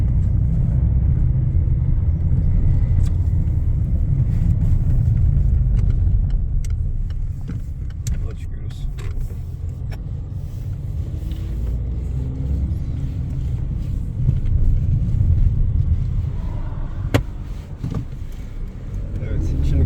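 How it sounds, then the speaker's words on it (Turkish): A 2020-or-later Peugeot 2008 rolls along the road with a constant loud tyre and engine rumble, interspersed with knocks and clunks from noisy shock absorbers, and someone talks over it. "Amortisörler sesli çalışıyor."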